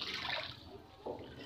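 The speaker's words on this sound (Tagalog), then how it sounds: "Ganito po ang dagat dito tuwing June." Sea water surging and washing over a coastal road during June high seas, a brief rushing, splashing swell heard from close by, with a second surge arriving partway through.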